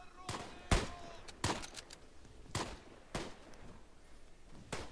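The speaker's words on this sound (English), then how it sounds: "Mosin doesn't shoot too fast." Mosin rifle gunshots in the Tannenberg video game, about seven sharp cracks spaced irregularly about half a second to a second apart, over a quiet background with faint ambient battle noise.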